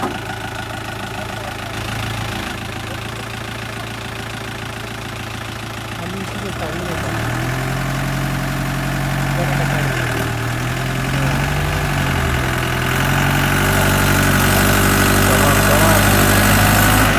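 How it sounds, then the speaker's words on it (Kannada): A jeep engine idles and revs unevenly for a long stretch on a muddy, rain-damaged road, a steady low rumble that grows louder and rougher toward the end. "ಈಗ ಜೀಪ್ ಬಂದಿದೆ ಎಳಿಯೋಕ್ಕೆ ನೋಡಿ"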